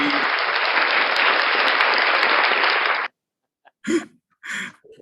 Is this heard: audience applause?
yes